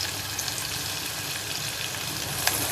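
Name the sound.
frying chili and ginger in a pan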